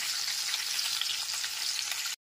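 Bright, continuous sizzle of cauliflower pieces lightly frying in hot oil in a karahi, close and even, cutting off abruptly at the end.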